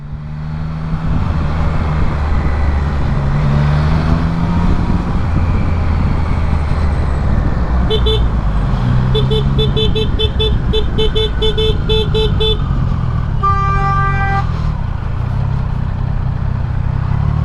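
Loud, steady rumble of heavy road traffic with a run of short, rapid car horn toots midway, followed by one longer sustained honk.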